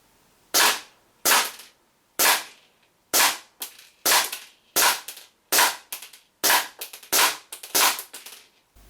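A WE 1911 Desert Warrior gas blowback airsoft pistol firing 0.2 g BBs on green gas at a range, about a dozen sharp cracking shots, single and in quick pairs, loud and close with no talking.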